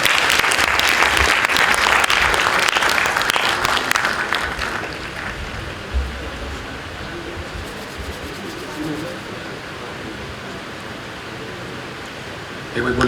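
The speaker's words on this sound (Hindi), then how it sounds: "जोरदार तालियां बजनी चाहिए एक बारी।" Loud applause from a crowd at a Ganpati Mahotsav festival gathering, a dense wash of clapping for about four seconds that fades into lingering murmur and scattered sounds, with a voice speaking briefly.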